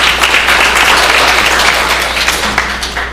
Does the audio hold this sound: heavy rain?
no